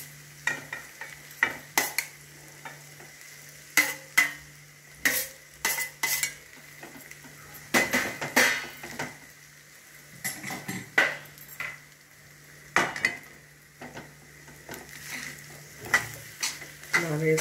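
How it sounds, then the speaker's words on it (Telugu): Spoon stirring cooked, cooled rice with garam masala in a pan, giving intermittent scraping and clinking strokes against the metal over a faint steady background, close and fairly loud, with no voices. "వేసుకొని దీన్ని ఇలాగా మొత్తం కలిసేలాగా తిప్పుకోవాలి"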